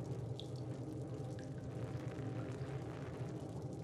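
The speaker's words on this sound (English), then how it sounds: "I like the sound of the water on the raincoat." Steady video game rain, from Little Nightmares, patters and hisses on a raincoat over a low rumble, a dense, continuous wash of droplets striking close by without any pause.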